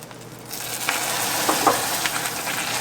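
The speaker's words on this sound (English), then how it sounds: "give this a nice little whisk" Hot pecan brittle candy mixture is whisked in a pot after cooking, giving soft bubbling, sizzling and light scraping strokes at close range, with no talking.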